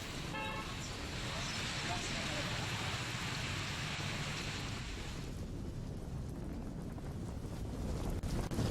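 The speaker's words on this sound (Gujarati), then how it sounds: "શહેર અને જિલ્લામાં વહેલી સવારથી વરસાદ છે" Steady early-morning rain over Bhavnagar district in Gujarat gives a broad hiss for about five seconds, then drops to a quieter patter, with passing traffic, wind noise and faint voices underneath.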